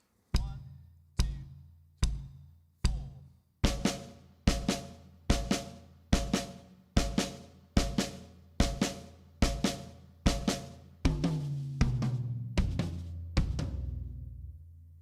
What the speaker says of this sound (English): I'll play the bass drum on 1,